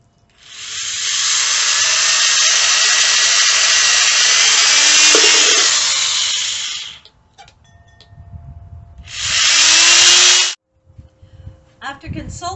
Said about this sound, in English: Now I've got my drill set up.